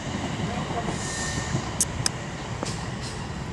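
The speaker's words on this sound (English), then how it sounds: "be another 350 coming in as well with a service bound for Birmingham New Street from London Euston" A Class 350 electric train rolls into Birmingham International station on the West Coast Main Line, a steady low rumble of wheels with a few sharp squeals and clicks standing out over it.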